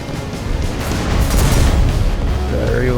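Air-to-ground Maverick missile from an F/A-18C Hornet striking its target in War Thunder, a loud, sustained rumbling boom that swells and rolls on for the full three seconds.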